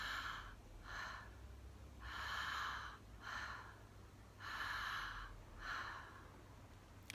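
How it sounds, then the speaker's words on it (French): Connected breathing with long, airy inhales and short, relaxed exhales repeats in a soft, rhythmic cycle, close and fairly quiet over a low background hum. "un grand inspire et une expiration courte et détendue"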